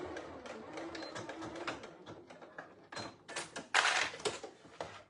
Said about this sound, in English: I can just set my machine to a higher stitch and just baste those layers together